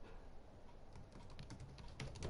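Quiet keystrokes on a computer keyboard, a steady patter of light clicks that grows a little busier and louder near the end, with no talking.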